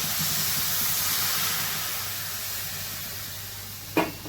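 Water poured into a hot pan of fried bhagar and cucumber, a broad steady steaming hiss that slowly fades, ending in a brief sharp sizzle burst near the close, with no talk.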